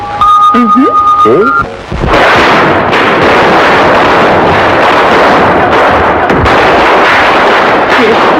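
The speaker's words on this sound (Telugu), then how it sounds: "దీపావళి కదా, టపాకాయలు కాల్చిపోతే ఎలా?" Loud, dense crackling bursts of Diwali firecrackers going off in rapid succession, close by, after a brief moment of talk at the start.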